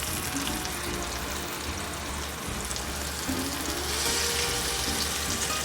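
Sea bass frying in melted butter in a pan gives a steady, close, dense sizzle and crackle that keeps going without a break, with no voices.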